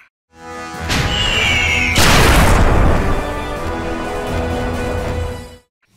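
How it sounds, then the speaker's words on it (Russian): Rune cannons fire elemental shells in the video game Suikoden IV: a loud close boom with a whooshing tail, a second heavy blast, then a long rumbling decay before cutting off. "для ведения обстрела используются рунические орудия, которые стреляют стихийными ядрами"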